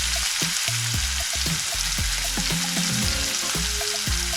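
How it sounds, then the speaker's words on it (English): A smash burger patty fries in a hot pan, giving a close steady sizzle with crackles and scattered spits, and no talking over it. "the pan's getting hot. I'm going to put the first burger in."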